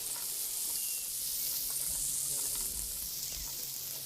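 Steady, dense sizzling of kebabs cooking on a hot grill, close and continuous throughout with a bright crackling hiss.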